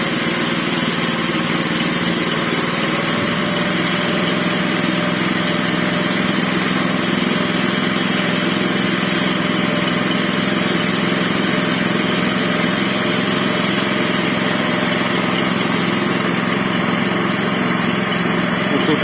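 A self-propelled power trowel runs on a concrete floor, its small engine holding a loud, steady droning hum up close for the whole stretch with no break.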